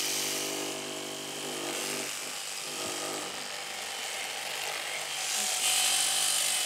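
Electric clippers shearing a sheep on a farm, a continuous buzzing motor whine that holds steady at moderate distance, with small variations in load as the blades move through the fleece.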